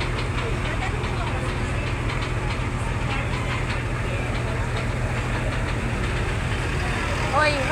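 A fire truck engine idles at a rescue scene in Pasig, a steady, loud low rumble with a constant hum that never changes, while voices talk faintly in the background.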